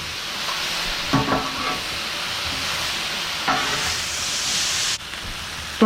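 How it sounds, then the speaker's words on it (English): Jambalaya with tomatoes is stirred in a pot, a constant bubbling sizzle broken by a few scraping sweeps of the spoon, close and fairly loud. "now I'm going to give her a stir"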